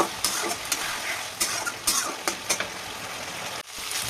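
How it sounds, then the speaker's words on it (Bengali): Potatoes sautéed and stirred in a pan, with a steady frying hiss broken by repeated scraping strokes at an irregular rhythm, close and moderately loud, no talking. "সুন্দর করে তাকে কষিয়ে দেবো"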